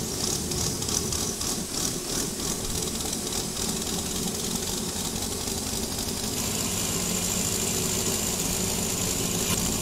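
A Swaraj combine harvester engine from the Farming Simulator 22 game runs at a steady, moderate drone with a buzzing, vibrating texture and no speech over it.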